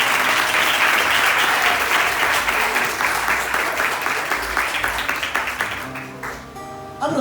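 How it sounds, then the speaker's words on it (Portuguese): A church congregation at a family worship service applauds together, a loud, dense, sustained burst of clapping from many hands that fills the room and gradually thins and fades toward the end. "Aplauda o Senhor, irmãos"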